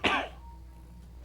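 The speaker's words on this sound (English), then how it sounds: "you all heard that cough" A single short cough at the start, close and fairly loud, fading into a quiet room hum.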